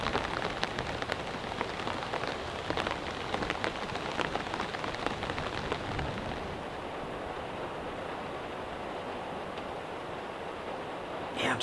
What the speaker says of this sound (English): Yeah, I'm just gonna kick back, listen to the rain for a bit.